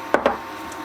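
A wooden spoon works potato dough and flour for churros in a bowl, giving two quick, close knocks in succession, then near silence.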